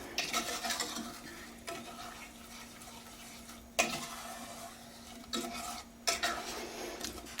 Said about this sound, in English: Once it starts boiling, we're going to set a 5-minute timer and let it boil without stirring it for 5 minutes.